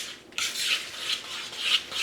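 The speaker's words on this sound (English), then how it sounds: "I am going to add in some cinnamon. I love cinnamon, so obviously put as much as you desire. And I am going to mix this all up." A spoon scraping and stirring oatmeal with cinnamon in a bowl, a few rough rubbing strokes in a steady back-and-forth rhythm, close and moderately quiet, with no talk.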